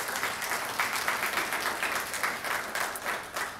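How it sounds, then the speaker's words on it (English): Sustained applause from a keynote audience, a dense wash of clapping at steady volume with no speech. "Give them a round of applause."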